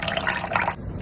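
Half a cup of water poured into a soy sauce, fish sauce and brown sugar glaze mixture, a close continuous splashing trickle that stops abruptly near the end.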